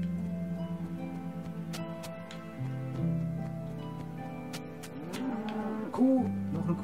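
A cow in Minecraft Xbox 360 Edition gives a low, drawn-out moo over quiet background game sound, with a second moo rising near the end.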